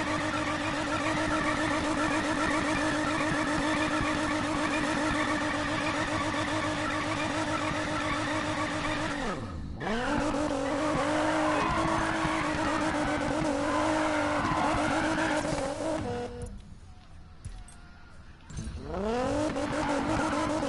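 Continuous race-car engine roar with tire squeal and skidding from driving in Need for Speed: Payback, loud throughout with a sudden gear drop near the middle and a brief quieter dip late before the engine surges again.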